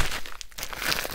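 Book packaging crinkles and rustles in a short, close burst as it is cut open, with no talking.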